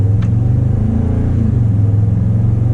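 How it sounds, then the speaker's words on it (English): A 2019 Toyota Tundra TRD Pro's engine and exhaust rev from inside the cabin, a loud, bass-heavy, steady drone that fills the interior with no talk over it. "Look at how instant the throttle response is, and how loud and intrusive that is in the interior."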